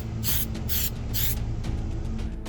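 Short airbrush bursts of flat clear coat mist onto a plastic model kit, three or four hissing sprays separated by brief pauses, close and distinct.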